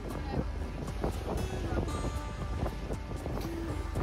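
A boat ride off Netaji Subhash Chandra Bose Dweep in the Andaman Islands, with steady wind buffeting the microphone, the hull slapping through waves and a droning engine, close and loud throughout.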